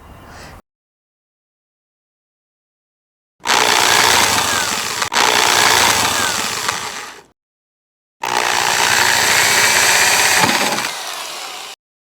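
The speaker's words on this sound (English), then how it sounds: "Now drill a 3/16 diameter hole for each bracket" A power drill bores 3/16-inch holes into an RV roof in two long bursts of several seconds each, loud and close, separated by silence.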